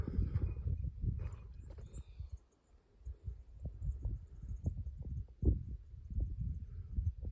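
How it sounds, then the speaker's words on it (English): A cow moves through brush on a burned hillside, making soft, irregular thuds and rustles. The sounds are faint and somewhat distant, with a brief louder thump, and no talking. "There goes that cow."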